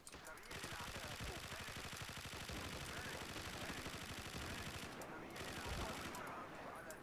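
Rapid automatic gunfire in the shooter game Battlefield 2 Remastered: long sustained bursts of machine-gun fire crackle loudly for most of the stretch, with a brief lull before another heavy volley.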